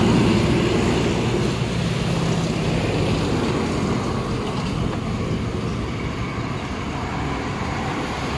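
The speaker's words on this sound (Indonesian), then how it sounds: "Ada lagi nih warna hijau truk tronton" A green tronton heavy truck passes on a road, a steady loud broadband engine and tyre roar that stays strong and slowly eases over several seconds, with no talking.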